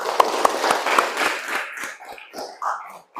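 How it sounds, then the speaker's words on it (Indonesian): Classroom applause for a student group in an Arabic-language teaching session: a run of quick rhythmic claps that loosens into looser, scattered clapping and light voices before fading out near the end. "Tepuk tangan dulu."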